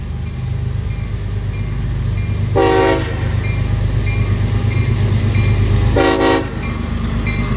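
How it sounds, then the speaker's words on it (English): A local heritage train rumbles past steadily and loudly, with two short horn blasts sounding over the continuous low roar of the wheels. "here's this local train coming back"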